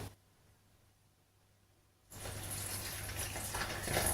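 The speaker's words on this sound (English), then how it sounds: "you're going to add water a little at a time" Water pours from a tap, starting abruptly after a quiet stretch and running steadily as it is added a little at a time to crumbly chapati flour in a home kitchen.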